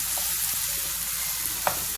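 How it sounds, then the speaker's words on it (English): Minced beef, carrots, onion and ginger powder fry in a pan, giving a continuous close sizzle with occasional scraping stirs, and a brief knock right at the end; no one speaks. "I'm going to be adding some ginger powder, then stir."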